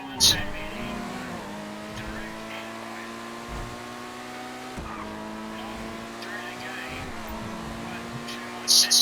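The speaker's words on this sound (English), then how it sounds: "I'm just gonna take your car for a drive" A car in Grand Theft Auto V drives with a steady engine drone that rises and falls as it shifts gears, joined by brief tire-squeal or game effect bursts at the start and end.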